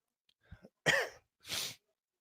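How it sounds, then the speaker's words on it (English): Someone nearby coughs twice, harsh and throaty, after a small throat-clearing sound. "I apologize for the coughs and the sniffles and so forth."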